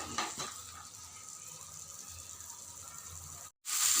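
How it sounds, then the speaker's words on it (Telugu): Rajma curry simmers and is stirred in a pan, a soft steady sizzle with faint scraping of the spoon, then a sudden brief break in the sound before it comes back louder. "ఈ విధంగా వేసుకొని కలుపుకొని ఒక 2 నిమిషాలు ఉడకనిద్దాం."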